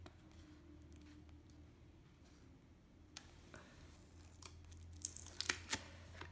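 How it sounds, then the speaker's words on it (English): Packaging of a 6x6 paper pad is torn and crinkled open, quiet at first, then a run of sharp rips and crackles builds toward the end, close up, with no talk. "6x6 paper pad, I'll just open this"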